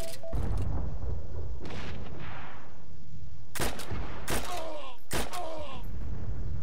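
Gunfire in the first-person shooter Heroes & Generals comes in a few sharp, loud bursts of shots, separated by short gaps, with a low rumble beneath them.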